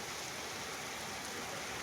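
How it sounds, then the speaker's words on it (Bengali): Heavy rain falls steadily on a surface, producing a dense, unbroken wash of noise that fills the short stretch with no other sounds. "আমাদের এখানে প্রচুর বৃষ্টি হইতেছে এখন"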